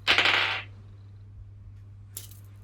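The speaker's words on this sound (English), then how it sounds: "here we have the dice. Let's get that natural 20." A d20 die tossed for a tabletop-style reading game clatters loudly across a hard surface for about half a second, then a faint second click follows near the end.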